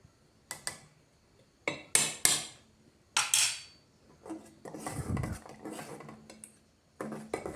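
A spoon stirs ghee into ragi malt in a metal pot on a switched-off stove, producing scattered sharp metallic clinks and short scraping rubs against the pot in irregular bursts with brief pauses between them.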